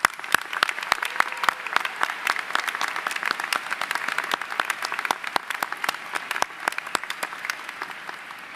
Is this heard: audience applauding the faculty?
yes